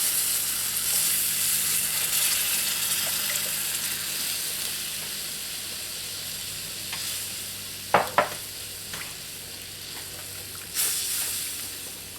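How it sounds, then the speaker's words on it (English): Turkey broth poured into a hot pan sizzles and hisses steadily, with a few sharp whisk clinks against the pan partway through, close and fairly loud with no talking. "I'm going to pour it right in the middle and incorporate it with a whisk and stir, stir, stir."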